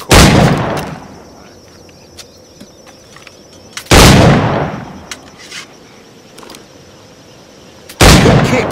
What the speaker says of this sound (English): Pull off a few shots if you like, get a feel for it.